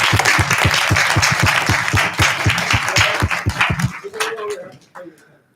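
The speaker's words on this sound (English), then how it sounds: "So this is where you really need to give a round of applause to." An audience breaks into loud, dense applause that holds steady for several seconds, then thins out and fades, with a few voices and a dog-like yip near the end.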